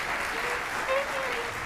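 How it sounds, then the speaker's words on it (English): Radio studio audience applauding musicians who recorded a piece by a long-dead composer, an even broadband patter of clapping at moderate level with a brief swell midway and some speech mixed in. "That deserves applause."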